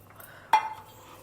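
A single sharp metallic clink rings out as a utensil strikes a pot while beaten curd is mixed into Morkootu, a South Indian dish, briefly ringing before fading into quiet.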